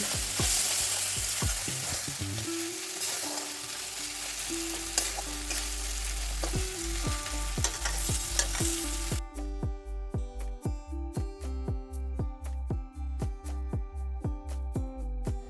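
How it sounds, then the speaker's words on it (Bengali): Spice paste for ghugni fries and is stirred with a little water, a steady sizzle with rhythmic scraping strokes against the pan. Sustained tonal hums run underneath and grow more prominent in the second half. "এবার এই মশলার মধ্যে সামান্য পরিমাণ জল দিয়ে মশলাটাকে আরও ভালো করে কষিয়ে নিতে হবে"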